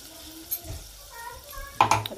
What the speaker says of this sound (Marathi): मस्तपैकी फोडणी पडली आहे चरचरावर